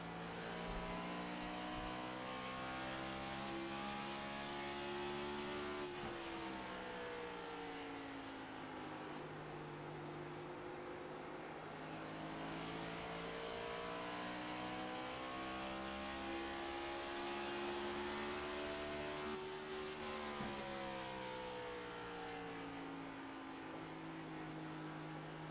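On-board engine of Dustin Coggin's No. 42 race car during the Cactus Championship 160 at Phoenix, a loud continuous roar rising and falling through shifts and revs, with the throttle easing off and building again, steady and close with no talk.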